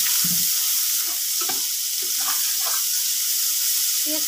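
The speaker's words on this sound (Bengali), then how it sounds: "মাছ ভাজার তেলে আমি পেঁয়াজ কুচিটা দিয়ে দেব" Chopped onion dropped into the hot oil left from frying fish sizzles steadily and close by, with a few soft stirring or clattering knocks over the hiss and no talking.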